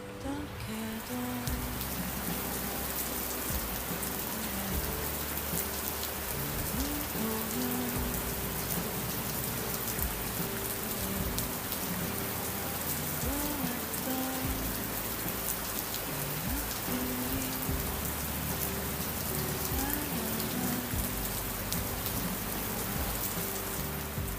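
Steady rain falls on a surface beside a road with a zebra crossing, a dense, even hiss of drops that stays loud and continuous the whole way through, with no voices.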